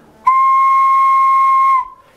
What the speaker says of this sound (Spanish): este es un silbato, es lo más básico que había, eh, que suena